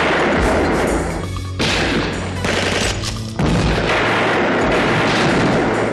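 Gunfire from a shootout in a low-budget movie, with dense bursts of shots and booming blasts packed closely together, loud and continuous with brief dips between volleys.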